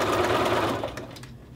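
A sewing machine runs steadily and close while stitching a men's shirt collar, then slows and stops near the end; no talking.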